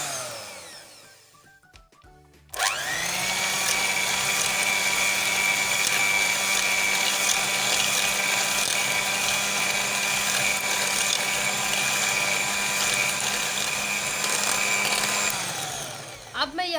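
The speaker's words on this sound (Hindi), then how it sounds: "और अब मैं यहाँ पे इलेक्ट्रिक बीटर यूज़ करूँगी।" An electric beater whisking coffee for cappuccino starts up abruptly after a brief quiet handling noise, then runs at a steady, loud motor whir with a constant pitch before cutting off near the end.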